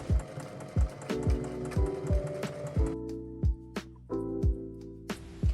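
A sewing machine stitches stretch fabric with polyester thread for a tube top, giving quiet rhythmic bursts of mechanical clatter with short pauses between runs, close by with no talk.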